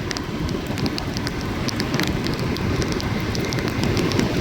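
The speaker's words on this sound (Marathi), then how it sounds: "अचानकच पाऊस आलाय एवढं ऊन होतं कडक" Sudden rain falling during a vehicle ride, a steady loud wash of drops and wind rush against the microphone with no talk.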